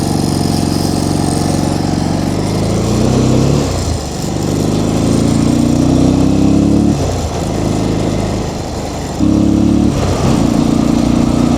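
Motorcycle engine running steadily on a road during a ride to Gokarna, Honnavar and Karkala, a loud continuous drone with rising and falling revs and gear shifts, no talk.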